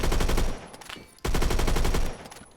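FAL rifle gunfire in Roblox Phantom Forces, fast automatic bursts of sharp, punchy shots in two volleys separated by a brief pause, loud and close.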